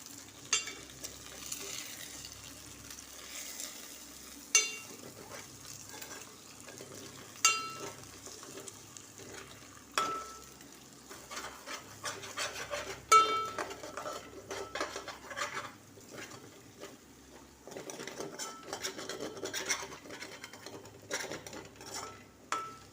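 Egg fried rice sizzles steadily in a pan while a utensil stirs it slowly, with occasional scrapes and clinks against the metal, fairly close and at a moderate level, no talking.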